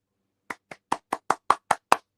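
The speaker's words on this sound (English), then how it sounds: "golf clap for us" Slow, light hand clapping in a golf-clap style, eight soft separate claps close to the microphone that speed up slightly, in an otherwise quiet room.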